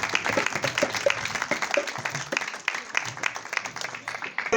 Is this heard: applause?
yes